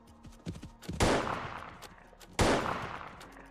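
Gunfire in a hunting video game with deer, heard as a few sharp shots early on and two loud booming blasts with decaying tails. Some sit close, others farther off.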